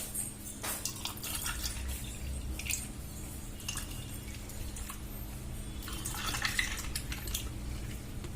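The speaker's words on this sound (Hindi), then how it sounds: "ठंडा पानी सब में डाल दीजिए।" Cold water poured into glasses of mango panna over ice, a close trickling and splashing with occasional light clinks of ice against glass, continuous and moderately quiet.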